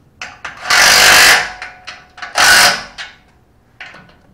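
A loud power tool whirs in short bursts, two long runs and several quick blips, close up with mechanical clatter between them, while installing a bow eye on a boat.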